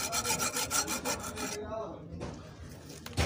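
An axle blade rasps across the stripped threads of a 48mm truck hydraulic bolt in quick repeated scraping strokes, close and gritty, then the filing stops briefly before a last scrape.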